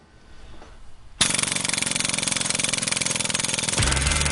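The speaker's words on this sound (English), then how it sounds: "there's a very common device that everybody's familiar with called a jackhammer that does nothing more than that" A jackhammer starts abruptly after a quiet moment and runs loud and close with a rapid, steady pounding rhythm, then shifts to a lower droning tone near the end.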